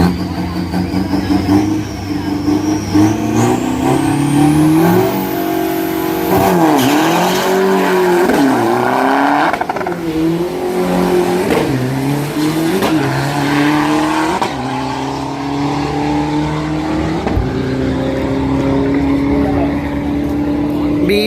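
Steel-body drag race car weighing 1600 kg with a 2500 cc engine on a qualifying run, its engine revving hard and climbing through gears in a long, loud rising wail with sharp pitch sweeps, crowd and announcer voices faintly mixed in.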